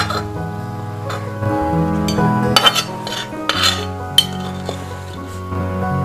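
A utensil clinks and scrapes in a pan as cooked gongura sorrel leaves are mashed, drained of oil, for an Andhra dish; close, irregular metallic knocks and scraping with a faint sizzle, no talking.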